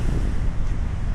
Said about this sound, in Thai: ลมเย็นมากครับ